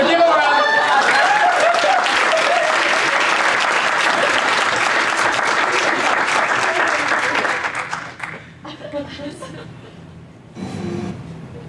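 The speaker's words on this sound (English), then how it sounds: "So give them a round of applause." Loud, sustained applause from a large audience greeting a speaker's mother and sister, dense clapping that thins out near the end as scattered claps and a voice come through.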